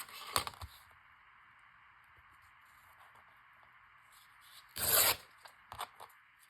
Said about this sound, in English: Just tearing a few pages at a time